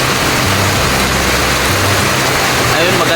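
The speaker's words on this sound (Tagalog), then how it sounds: "ang lakas ng ulan" Heavy rain pours down steadily at a second-floor construction site, a loud, dense hiss that stays even for the whole stretch with a low rumble beneath it.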